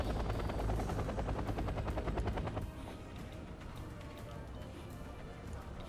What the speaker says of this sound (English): he's getting a lot of MI4 attack helicopters